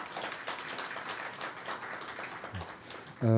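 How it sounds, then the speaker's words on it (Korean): Audience applause at an environmental foundation forum on national crisis management and climate response, a steady broadband patter of many hands filling the hall for about three seconds before a louder voice cuts in. "우리 환경재단의 최열 이사장님께 큰 박수 한번 보내주시기 바랍니다."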